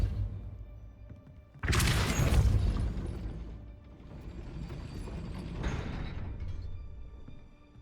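Depulso spell cast in Hogwarts Legacy, a sudden loud whooshing burst with rattling mechanical texture, easing into a steady rumble and swelling again later, with no voices.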